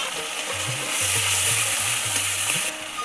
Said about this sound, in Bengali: দেখো মশলাটা আমার ভালো করে কষানো হয়ে গেছে, তেল ছেড়ে দিয়েছি।